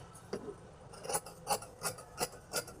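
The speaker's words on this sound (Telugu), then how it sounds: "ఇప్పుడు కట్ చేసేద్దాం" Scissors cut through blouse fabric in a series of crisp, close snips, about six rhythmic cuts spaced roughly a third of a second apart, with no talking.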